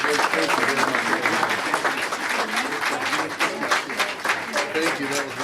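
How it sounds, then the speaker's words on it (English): Audience at a school board meeting applauding children, a dense, continuous round of clapping with voices talking over it throughout. "Let's give the kids a round of applause."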